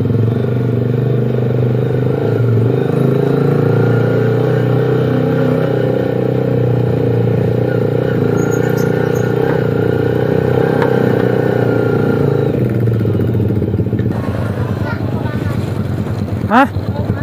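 Suzuki GSX R150 motorcycle fitted with an R9 exhaust on a test ride around Bojonggede, Bogor, its engine droning steadily and loud close-up, with riders talking over it and a brief sharp burst near the end.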